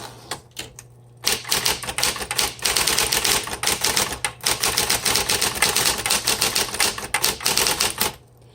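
A 1960s Smith Corona Coronet Electric typewriter clacks in a dense, rapid run of keystrokes with a few backspaces, loud and close, after a handful of sparse opening taps.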